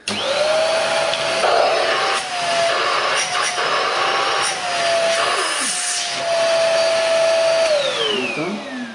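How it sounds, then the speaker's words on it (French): A 500-watt handheld vacuum cleaner from a robot vacuum kit runs loudly and steadily close by, its whine rising and falling in pitch as it is moved, then winding down at the end. "il suffit de le brancher et on a un aspirateur 500 watts"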